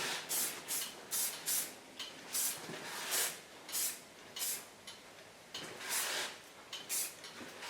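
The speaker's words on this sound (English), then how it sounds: "Take a nice soft hairspray. It's a brush out hairspray." Soft brush-out hairspray sprayed from a can in a series of short, close hissing bursts, some quick pairs and some longer, separated by brief pauses.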